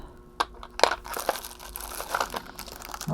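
Paper crinkles and rustles as it is pushed aside, a few sharp crackling bursts followed by softer intermittent crumpling, close and fairly quiet.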